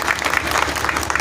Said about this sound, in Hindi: जोरदार ताली बजाकर स्वागत करो इस भाई का